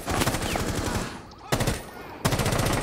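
An R4C assault rifle in Rainbow Six Siege fires in three sustained automatic bursts, a fast rattling stream of shots with brief pauses between strings, fairly close and steady.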